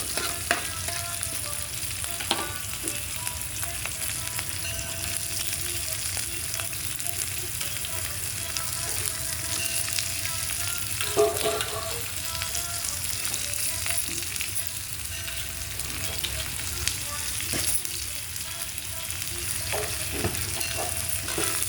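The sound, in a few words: food frying and being stirred in a pan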